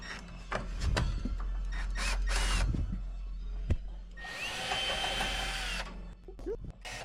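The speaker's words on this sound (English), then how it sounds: "now we are removing the last 5 mounting screws holding the unit onto the box" A power drill backs out the last mounting screws holding a refrigerator unit to its box, with short whirring bursts and a longer steady run near the end, alongside clicks and handling noise.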